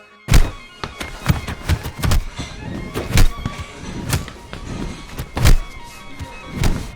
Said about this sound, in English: added every single punch and hit and action-packed piece of noise that needed to be added